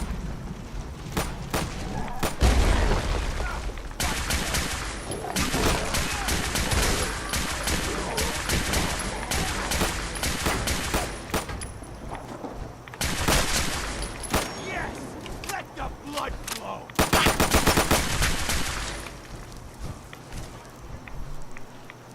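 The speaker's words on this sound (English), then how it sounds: "More shooting. Sound like a rocket launcher," Game gunfire and rocket launcher blasts from Fallout crackle in dense volleys and bursts, loud clusters separated by quieter stretches, continuing over roughly twenty seconds.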